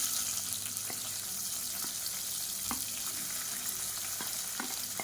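Long-sliced onions frying with spices and mint leaves in oil for a chicken kurma, a steady even hiss of sizzling with occasional faint clicks, no one speaking.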